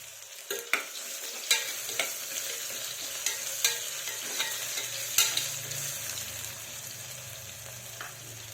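Garlic paste frying in a pan for brinjal rice (vangi bath), with a steady sizzle throughout and repeated sharp scrapes and clacks of a spoon stirring against the pan.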